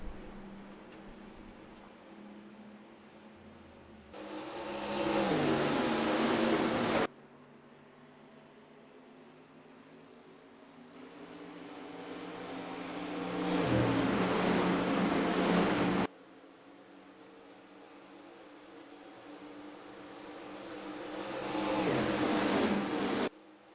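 Race cars in NASCAR Racing 2003 roar as they accelerate on track at a green-flag restart, engine noise swelling loudly in three long surges with quieter rumbling between them.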